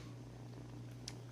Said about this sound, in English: And if you can hear him purring